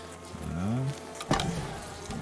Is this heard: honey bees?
yes